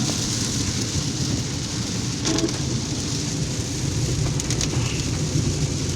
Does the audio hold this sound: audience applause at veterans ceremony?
no